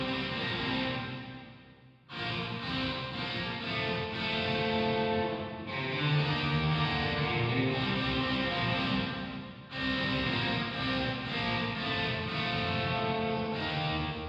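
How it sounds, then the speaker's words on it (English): Washed-out guitar reverb with no direct attack, a fully wet reverb return in Cubase, a dense sustained wash that swells through several strummed phrases, with brief dips between them. "what you're hearing now is just the reverb without the signal itself"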